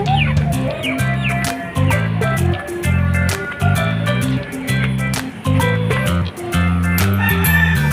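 Chickens, a Rhode Island Red and native crossbreed, cluck steadily over a rhythmic musical backing, their calls close and fairly loud, with occasional higher chirps scattered throughout.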